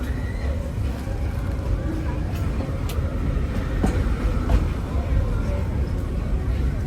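The Walt Disney World Railroad train runs along its track with a continuous low rumble and wheel noise, while a recorded narrator speaks over the ride and faint crowd murmur sits beneath.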